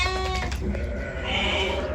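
Lambs bleat on a farm in a few short, wavering calls up close, and the calls give way to a steady, noisy background.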